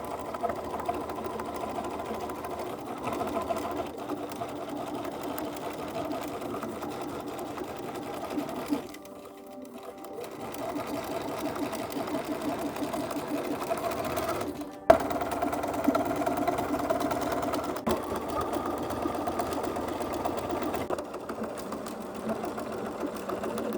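A sewing machine runs in steady bursts, stitching close to the edge of fabric to form a boning channel, its rapid mechanical whir stopping briefly twice before resuming at moderate volume.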